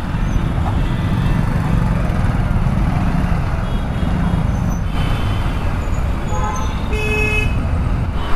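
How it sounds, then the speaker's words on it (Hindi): Dense city traffic heard from a Hero Xpulse 200 motorcycle, a steady loud roar of engines and road noise with a few horn toots near the end. "देखो यहाँ का ट्रैफिक"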